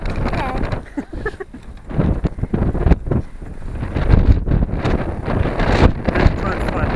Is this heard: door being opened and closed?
no